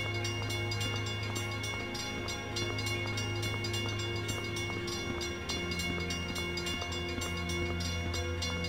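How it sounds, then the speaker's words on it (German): A train rolls past in Michigan: Report From Hell, a steady low rumble with regular wheel clacks and a sustained hum filling the whole stretch, even and continuous with no voices. "Da kommt doch ein Zug."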